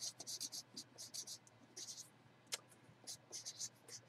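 A pen scratches across a baseball trading card during a card box break, producing quick, close, rhythmic bursts of writing strokes with small pauses, under faint background murmur.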